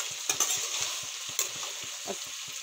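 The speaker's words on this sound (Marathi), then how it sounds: "फ्राय होऊन राहिले, तर छानपैकी फ्राय करून घेऊ आपण" Food sizzles steadily in a non-stick pan with a lot of oil while a utensil stirs and scrapes with quick, irregular taps, close and fairly soft.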